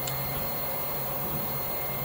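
A Bowden-type 3D printer with liquid cooling runs steadily, giving a continuous mechanical whir and hum with a faint tonal whine and no pauses.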